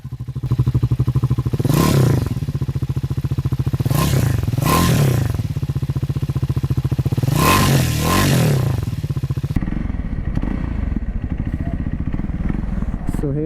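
Exhaust of a Triumph Scrambler 400X motorcycle, close and loud, rising in several sharp revs from a steady idle before settling back down.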